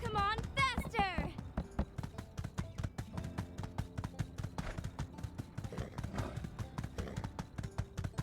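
Horse hooves clip-clopping at a steady gallop in a video game, a fast even rhythm of hoofbeats running throughout, close, with a voice whooping and talking over the opening moments.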